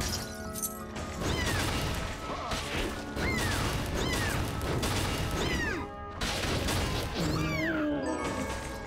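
A human voice run through a pitch-shifting effect comes out as a string of squeaky, meow-like calls, loud and close, like a cat imitation repeated again and again.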